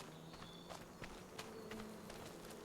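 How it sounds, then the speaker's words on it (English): Bees buzzing near sheds on a hillside farm in Farming Simulator 25, a faint continuous insect hum under soft repeated footsteps, steady throughout with no talking. "There's the bees"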